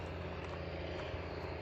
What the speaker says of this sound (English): Those planes are quite low.